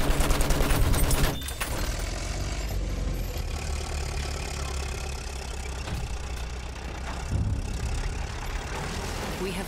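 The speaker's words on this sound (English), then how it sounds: "Look out! Machine gun!" Machine gun fire in a Battlefield 1 battle at St. Quentin Scar, a dense loud burst at first, then a sustained roar of gunfire and engine rumble from an FT-17 light tank that continues throughout.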